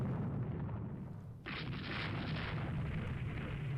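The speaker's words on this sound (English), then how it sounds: "First torpedo strike of the game." Torpedo strike explosion in the naval video game Rule the Waves 3: a sudden bright blast cuts in over a steady low rumble of battle ambience, then sustains as a rushing, roaring wash.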